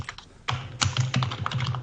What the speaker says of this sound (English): Someone's hammering their keyboard like crazy.